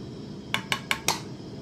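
A spoon clinks four times in quick succession against a pot on the stove while beetroot juice is mixed with cornflour powder. The knocks are close and crisp over faint room hiss.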